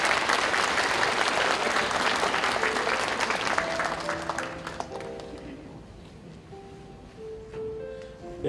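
A church congregation at a Korean pastor emeritus installation service applauds warmly, the clapping loud at first and then fading as soft organ tones emerge beneath it.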